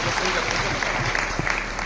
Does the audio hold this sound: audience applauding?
yes